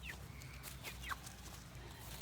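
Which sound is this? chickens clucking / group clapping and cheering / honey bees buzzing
chickens clucking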